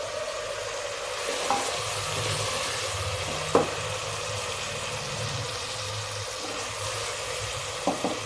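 Ingredients fry and sizzle steadily in a pan for dhaba-style daal, a constant close hiss with a low hum underneath and a few sharp spoon clinks against the pan.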